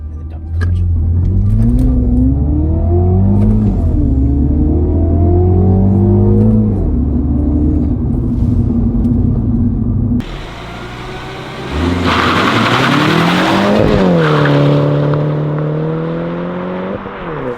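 A front-wheel drive manual car revs steadily below about 2,000 RPM, then the clutch drops and it launches with a loud burst of tyre-scrabbling wheel spin and rising engine note, close by.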